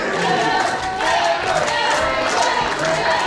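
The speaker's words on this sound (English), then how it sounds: "This crowd chanting Trevor, Trevor." A wrestling crowd in Georgia chants a wrestler's name in a steady, rhythmic roar during a championship match, loud and continuous, with no clear gaps between chants.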